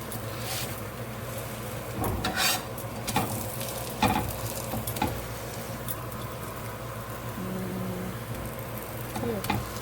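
A dosa on a hot pan gives soft sizzling and scraping as it is flipped, with sharp clatters of the utensil against the pan, fairly quiet and close.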